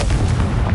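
Confringo blasting spell from Hogwarts Legacy, a single short, loud, deep explosion boom, heavy and close, heard alone.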